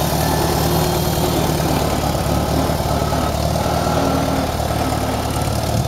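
A 1975 International Farmall 140 tractor engine idles close by, a steady, even low chugging rumble that runs smoothly without a break and with no talk over it.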